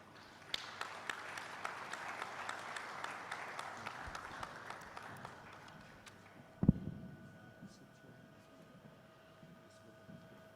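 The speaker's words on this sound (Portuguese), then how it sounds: "uma salva de palmas para eles, por favor" An audience at a high-level round table conference applauds to welcome a minister and a secretary-general, steady distant clapping that fades out, followed by a single sharp thump and quieter room noise.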